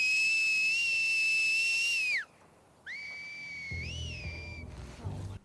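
Enemy NPC whistles from The Last of Us Part II, heard as two loud, clear tonal whistles: a long steady one, then after a brief pause a second with a rising bend, with faint low rumble beneath.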